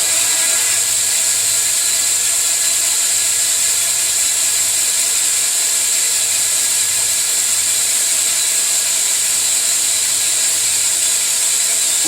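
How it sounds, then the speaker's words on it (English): A drill bores into an aluminum motorcycle swing arm, giving a steady, loud, continuous high-pitched whine with a grinding hiss that holds unchanged for the whole stretch, with no talking. "What I like about aluminum, it drills easy,"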